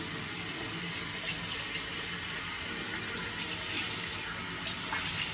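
Tap water runs steadily into a sink as a face is washed during a skincare routine, a continuous broadband rush with faint splashes and no talking.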